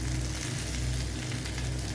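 Fried prawns sizzling in a tawa pan, a dense, steady crackling hiss of hot oil that runs unbroken and fairly close, with no voices.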